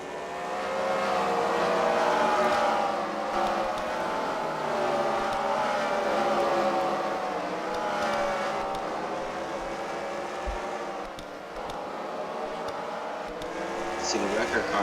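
Race cars run a main-event heat at the Freedom Factory track, their engines droning steadily throughout with a brief louder pass near the end, heard under continuous commentary.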